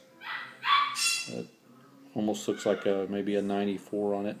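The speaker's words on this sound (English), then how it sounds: "Sorry about the dog barking in the background." A dog barks in the background, a few sharp yips early on, while someone talks over it close by.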